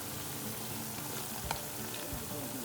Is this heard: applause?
no